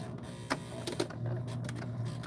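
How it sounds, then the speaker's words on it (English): A sewing machine's handwheel is turned by hand, giving a low mechanical whir with a few small clicks and knocks, close and fairly quiet. "I'm gonna hand turn my wheel"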